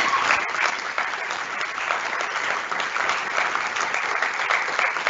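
Applause at an academic opening conference, a sustained, even wash of many hands clapping together, loud and continuous throughout with no talk over it.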